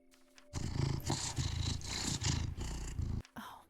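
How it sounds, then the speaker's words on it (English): In the video game Cabernet, a cat gives a loud, close, continuous purr in rhythmic pulses that run for about three seconds before stopping abruptly, with no talking over it. "Oh, just listen to that purr."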